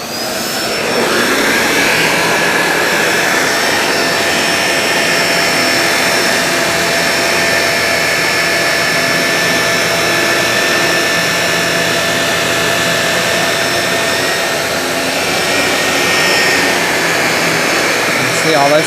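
Shark Navigator Lift-Away Zero-M or Apex Powered Lift-Away DuoClean Zero-M upright vacuum running steadily on carpet, a loud close whine with a constant high tone that holds nearly unchanged throughout.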